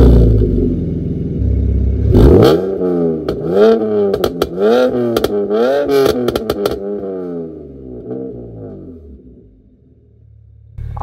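A loud BMW straight-pipe exhaust with the valve open revs hard again and again, rising and falling in sharp bursts with pops and crackles, then settles to a low idle.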